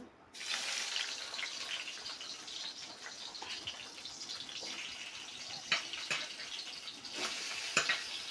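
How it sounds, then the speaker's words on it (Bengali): Fish sizzles in a hot pan of oil, a constant crackling hiss that starts abruptly and continues with scattered sharp pops and spatters, close and fairly quiet. "এবারে আমি মাছটাকে ভেজে নিই"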